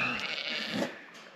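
Sheep on an Oregon farm waiting to be shorn, with a coarse wool flock, give a short bleat that rises briefly near the end amid steady background noise.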